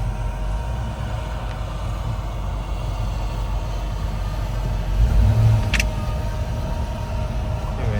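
A farm sprayer vehicle reversing on a field, with a steady low engine rumble throughout and a brief louder surge near the middle, heard close-up.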